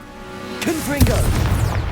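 A Confringo fire spell bursts in Hogwarts Legacy gameplay: a booming blast hits with a sharp crack, then a rumbling tail, while a voice speaks over the start of the effect.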